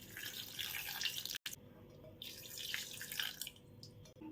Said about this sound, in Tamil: இது மாதிரி மிளகு முங்குற அளவுக்கு ஜூஸ் ஊற்றியாச்சு